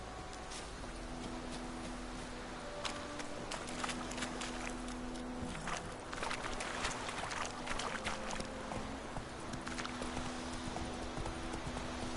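Horse hooves clip-clop steadily in The Witcher III, a continuous rhythmic trot over a dense ambient bed of outdoor game sound, with no talk.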